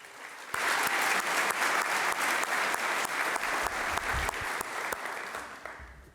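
Sustained applause from an audience at a high school senior awards night, steady and fairly loud for about six seconds before tapering slightly at the end, with no speech over it.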